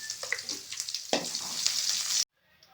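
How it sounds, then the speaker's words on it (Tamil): Cumin seeds, chopped garlic and ginger fry in hot oil, giving a loud, close, steady sizzle that cuts off abruptly near the end. "இப்போ ஆயில் காஞ்சாச்சு. நம்ம அடுத்தது சீரகம் போட்டாச்சு, பூண்டு, இஞ்சி குட்டி குட்டியாக கட் பண்ணியிருக்கேன்."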